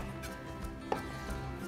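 A knife cuts kielbasa smoked sausage into half-inch wheels on a board, a few soft thuds and one sharper tap of the blade, quiet and close with no talking.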